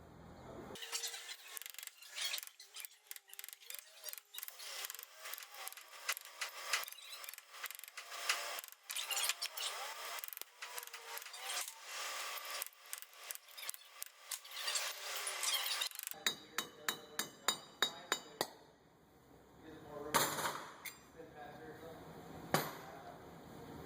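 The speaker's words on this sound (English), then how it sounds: "Hammer and small screwdriver and work our way around it" Repeated metallic scraping and prying, then a run of sharp taps as a hammer drives a small screwdriver around the hub cap of a 2006 Chevrolet 2500HD front wheel, close and fairly loud.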